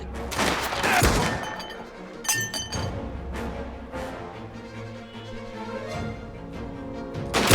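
Gunfire in the video game Mafia: The Old Country during a bandit attack: loud, sharp shots and bursts over a busy game soundtrack, with glassy crashes and rattles scattered through.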